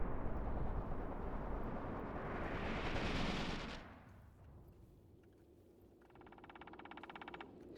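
Gunfire and a grenade blast in the Mius Front war game: a dense, loud roar of shooting and explosion fades into a quieter stretch, then rapid machine-gun fire picks up near the end.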